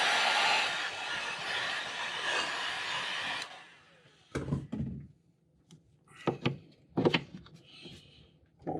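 Heat gun or hair-dryer-style blower setting bright red paint on a fishing lure, a steady broadband whoosh lasting about three and a half seconds, then switched off, followed by a few close knocks and handling clunks.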